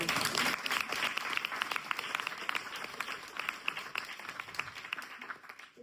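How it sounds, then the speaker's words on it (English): A room of members of an active retirement association clapping at a book launch, a lively round of applause with sharp individual claps, tapering off over several seconds. "Yeah, a round of applause"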